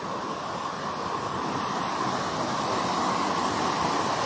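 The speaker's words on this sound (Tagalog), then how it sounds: "Yung maririnig mo, lagaslas ng tubig." Water rushing steadily at Sprite Falls, a waterfall, as an even, loud broadband roar that holds constant throughout with no voices.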